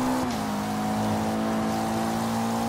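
A race car engine in Forza Horizon 3 revs hard at close range, with a sudden pitch drop at a gear shift. After the shift a continuous high whine of acceleration carries on.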